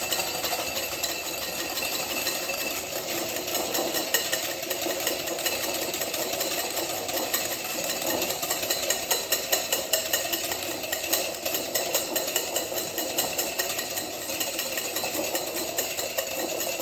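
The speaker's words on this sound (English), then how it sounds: "beat up your egg whites" An electric mixer whips egg whites for a key lime pie, a steady, fairly loud whirring motor drone that runs unbroken throughout with no one speaking.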